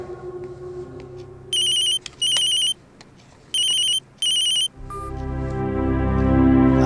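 An incoming phone call rings with an electronic ringtone in four bright, evenly spaced double pulses, each followed by a gap, before background music swells in at the end.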